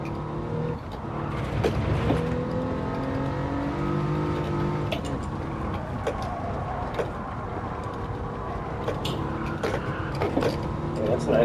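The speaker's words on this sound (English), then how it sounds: "you should be able to hear the car audio" Car engine in Gran Turismo 7 revving and shifting through the gears, a steady droning motor with rising and falling pitch sweeps and brief tire and shift noises, with someone talking over it.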